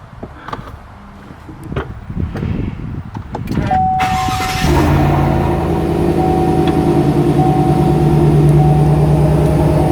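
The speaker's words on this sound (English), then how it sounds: "we're going to turn the truck on" A 2019 Chevrolet Silverado Trail Boss pickup with a Borla S-Type exhaust cranks and fires at about four seconds, then settles into a loud, steady idle. Some clicks and handling noises come before the start.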